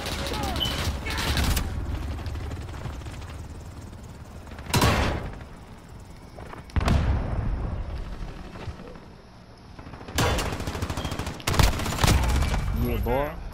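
Gunfire in a Call of Duty team deathmatch video game: bursts of rapid automatic fire and sharp explosive shots come in several loud volleys separated by quieter gaps, with voices talking in between.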